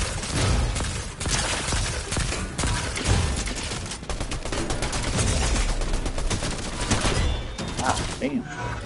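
Sustained Fortnite gunfire, rapid close bursts repeating almost nonstop at high volume, thinning out briefly near the end amid game sounds.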